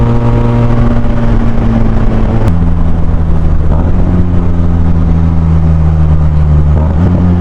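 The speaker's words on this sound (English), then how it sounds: "The downshift sound really nice with this exhaust" A loud BMW S1000 XR motorcycle engine with a throaty aftermarket exhaust drones steadily, its pitch dropping as it downshifts, with burbling between gear changes.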